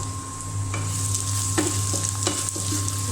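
Steady oil sizzle of onions frying in a pan, with a few soft scrapes of a spoon stirring, close and continuous.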